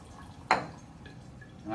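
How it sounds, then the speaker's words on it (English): Water poured into a heat-source bath holding a flask for a molar mass of a volatile liquid lab, heard as one sharp close splash followed by a few faint drips and trickles. "put some water in my heat source"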